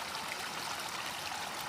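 Artificial stream in Qatar with water flowing steadily, a continuous close rushing and trickling wash with no voices.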